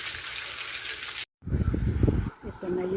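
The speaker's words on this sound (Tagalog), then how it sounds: "Unang prito ko yung garlic lang, hindi spicy." Garlic frying in a pan, a soft crackling sizzle that cuts out briefly and returns with clatter and low handling noises, a voice speaking over it.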